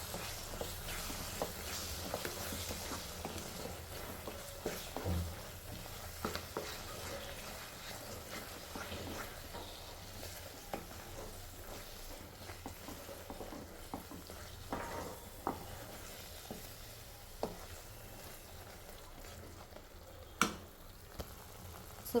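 Mango thurumu pachadi being stirred with spices, including coriander and fenugreek powder, a continuous soft scraping and squishing with scattered light clicks of the spoon against the pot, steady and fairly quiet with no talk.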